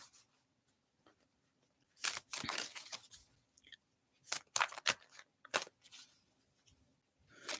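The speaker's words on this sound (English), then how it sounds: "So I'm shuffling the cards." Tarot cards are shuffled by hand in a few separate bursts of quick riffling and snapping, close up, with quiet pauses between them.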